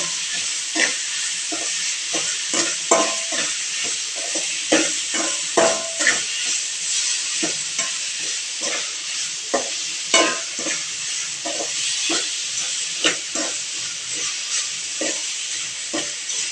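Tomatoes stir-fried in a pan hiss with a steady sizzle, broken by frequent scraping and clattering strokes of a spatula at an uneven rhythm, close and moderately loud, with no voices.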